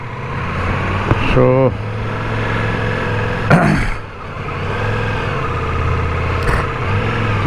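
Ducati motorcycle engine idling and pulsing beneath talk, with a steady low drone punctuated by a couple of sharper bursts and brief rising revs.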